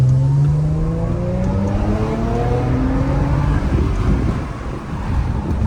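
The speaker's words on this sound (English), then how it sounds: "That's how my car sounds?" A car with its exhaust deleted revs and accelerates on a road, a loud raw engine note climbing repeatedly in pitch through gear changes before easing off, with wind rushing past the microphone.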